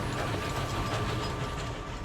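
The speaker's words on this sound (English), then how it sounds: "They are narrow gauge machines, 4 times smaller than a normal steam train." A narrow gauge forestry steam train, a pint-sized locomotive hauling timber from Romania's mountain forests, rumbles along steadily, with a continuous dense rolling clatter and low rumble that holds even throughout.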